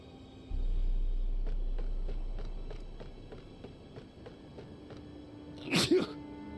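A character sneezes in Back to the Future: The Game, one short loud burst near the end, preceded by a run of even, regular footsteps over a low background hum.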